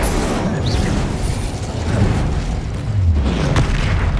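A magical fire spell detonates in the video game Hogwarts Legacy, producing heavy rumbling booms and blasts layered over dense in-game combat noise, loud and close throughout.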